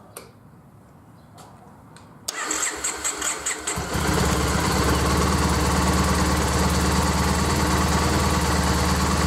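A Triumph Bonneville motorcycle engine cranks in a few rapid pulses, catches, then settles into a loud, steady, close idle with a constant mechanical rumble.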